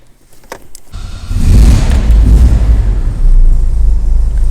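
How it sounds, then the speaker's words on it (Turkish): Tofaş Şahin car with a carburettor not yet adjusted being started: a few short starter clicks, then the engine catches at about one second and settles into a loud, rough, throbbing idle close by. "Bir marşına basalım arabanın"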